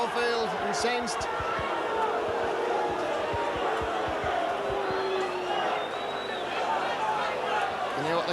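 A stadium crowd at a 1990 Leeds versus Leigh rugby league match roars and jeers steadily, a broad distant wash of voices and shouts, with a commentator talking over it throughout.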